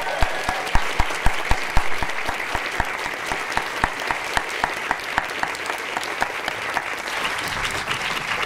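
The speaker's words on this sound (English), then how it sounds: "So I propose we applaud the teams that have put this in place." Audience applause at an animation event on a new campus, a dense steady clapping from a sizeable crowd with a few sharp nearby claps standing out, holding strong before thinning slightly toward the end.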